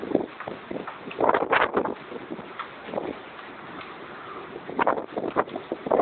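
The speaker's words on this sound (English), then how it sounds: "Blowing snow, blowing sleet, everything. Out of the west at about 40 miles an hour or so." Strong west wind of about 40 mph drives blowing snow and sleet across Cold Bay, Alaska, in a January snowstorm, a steady rushing roar with louder buffeting gusts against the microphone.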